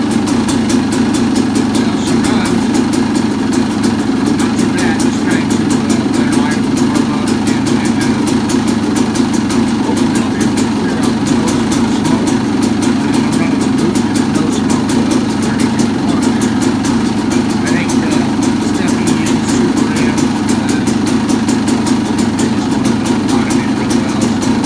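A motorcycle engine idles close by for a long stretch, a steady loud rumbling putter with rapid even firing pulses and no change in pace.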